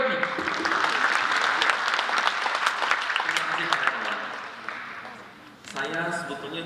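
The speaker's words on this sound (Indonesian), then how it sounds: "Silakan, kita aplaus buat Dr." An audience at a large parenting talk applauds Dr. Edwin with sustained, dense clapping that fades out, and a speaker's voice follows.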